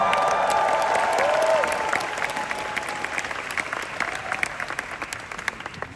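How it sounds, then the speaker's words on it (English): A packed room at a New York Comic-Con Marvel Animation and Television panel breaks into sustained clapping, dense and loud at first, then thinning slightly while scattered claps continue. "Give yourselves a round of applause."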